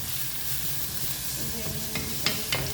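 Onion frying in a pan for Saudi-style egg shakshuka sizzles loudly and continuously up close, with a couple of spoon taps and stirring clicks toward the end and no talking.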